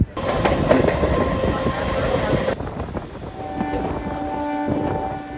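The Rajahmundry to Visakhapatnam special express passenger train, number 07466, rolls along with a loud, steady rumble and clickety-clack of wheels on the rails and a rush of wind, heard from on board, with faint voices in the background.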